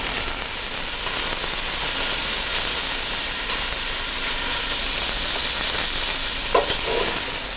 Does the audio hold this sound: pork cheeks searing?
yes